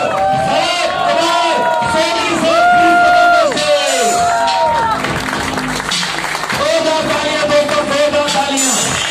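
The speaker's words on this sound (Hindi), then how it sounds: "आप सारे लोगों की जोरदार तालियों के बीच नेशनल टीम कोऑर्डिनेटर" A crowd applauds and cheers continuously at a closing speech event in Mauranipur, loud and close, with an amplified voice calling out over the noise.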